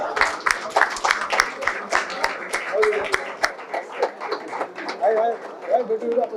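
Audience clapping during a felicitation ceremony at a school batch reunion, scattered sharp claps in a loose rhythm with background chatter and a voice talking over it.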